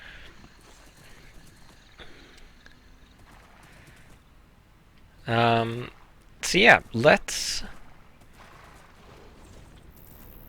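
A horse in modded Minecraft gives a short snort and then a quick burst of neighing in the middle of the clip, between stretches of someone talking.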